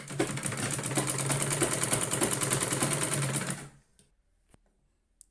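A sewing machine runs a seam on a blouse with a rapid, steady, rhythmic stitching chatter for about three and a half seconds, then stops, leaving near silence and a couple of faint taps.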